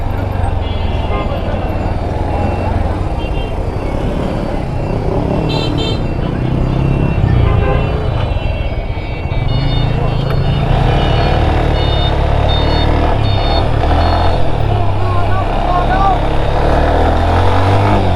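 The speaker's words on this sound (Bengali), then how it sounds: "নাটোর শহর দিয়ে আমরা এখন বাইক রাইড করে যাচ্ছি" A motorcycle ride through city traffic in Natore, with a constant engine and road rumble, passing vehicles and a few beeps, and people talking over it throughout.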